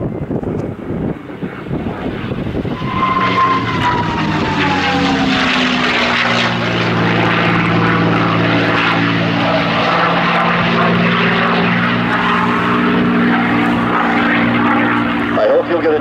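A P-51D Mustang called Quicksilver flying aerobatics at a World War II Weekend airshow, its propeller engine a loud, sustained drone with a pitch that shifts as the aircraft sweeps past, while an announcer talks over it.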